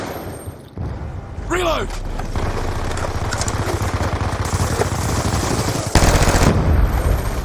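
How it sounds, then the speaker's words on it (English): Death Machine minigun in Black Ops 2 video game, a sustained, fast, buzzing stream of automatic fire that runs steadily under game announcer callouts and a shouted voice, with a whooshing sweep and other battle noise. "Friendly death machine spinning up."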